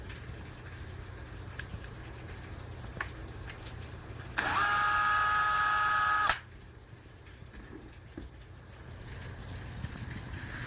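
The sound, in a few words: drilling a hole into MDF board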